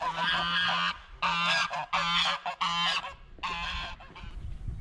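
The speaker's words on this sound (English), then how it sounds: "I think I prefer the temperament of the Canada geese" Canada geese honk loudly and close in a series of repeated bursts with short gaps, heard on a woodland walk near a small town, with no talk over them.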